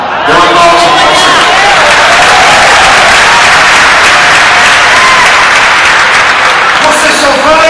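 Congregation at a church service breaks into loud, sustained applause, dense clapping filling the room throughout with some crowd noise mixed in.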